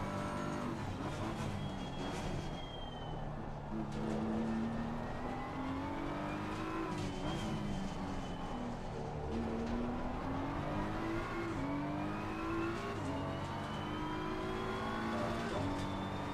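GT3 race car engine in Assetto Corsa Competizione at Silverstone, revving steadily with rising and falling pitch through gear changes, loud and continuous, with faint tire noise and no talking.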